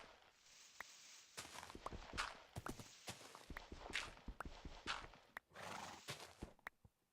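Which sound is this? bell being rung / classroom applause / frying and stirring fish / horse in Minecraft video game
horse in Minecraft video game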